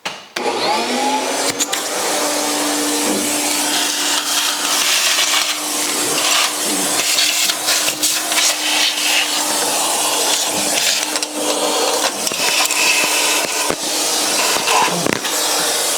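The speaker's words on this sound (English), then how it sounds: "What do you say we vacuum up the stuff on top first before we get too much into it?" A vacuum cleaner runs steadily, drawing up debris and fallen fuel line bits from the top of a stuck 1956 Chrysler Windsor engine, its close, loud whine broken by frequent gritty clatters and sucking surges.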